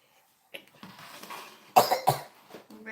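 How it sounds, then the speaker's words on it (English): A few sharp, close coughs come in quick succession indoors at a dinner table, loud and abrupt, with a murmur of voices around them. "You can't cough on food."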